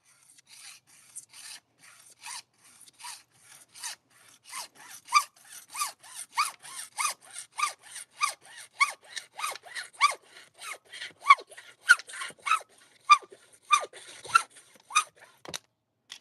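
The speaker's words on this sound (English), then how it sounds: "I'm going to cut on this line right here." A handsaw cuts through a burst plastic sprinkler pipe with rhythmic back-and-forth strokes. The strokes are slow and light at first, then quicken and grow firmer, with no voices.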